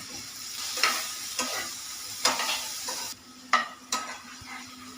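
Roasted chana dal crackles as it dry-roasts in a pan for a dosa chutney. A soft continuous sizzle runs under several sharp stirring scrapes and knocks spaced through the clip, and nobody speaks.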